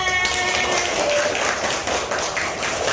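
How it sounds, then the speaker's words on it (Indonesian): A crowd at a school gathering applauding, a dense, continuous patter of clapping hands that stays loud from start to finish. "beri aplaus dulu untuk kita semua"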